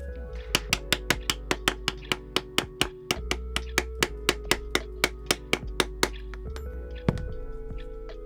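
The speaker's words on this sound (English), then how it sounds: "take the 2-pronged stitching chisel and just run those 2 edges along there" A two-pronged stitching chisel is hammered through leather. About two dozen sharp, evenly spaced taps ring out close by in a steady rhythm, with no speech.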